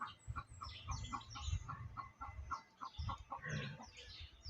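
Farm chickens clucking nearby in a steady run of short, repeated clucks with a faint background hum.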